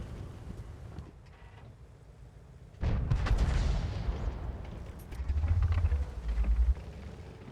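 A single heavy tank cannon blast from World of Tanks booms up close, then trails off into a low rumble. Deep engine-like rumbling swells later on, and no one speaks.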